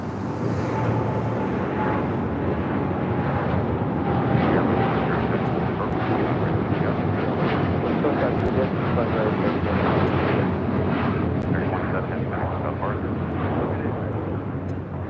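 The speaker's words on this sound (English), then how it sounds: "This is American Airlines Flight 27 taking off to Tokyo Haneda on a 787-8 Dreamliner" An American Airlines Boeing 787-8 Dreamliner taking off from LAX for Tokyo Haneda delivers a deep, rumbling jet roar that swells and holds at moderate distance.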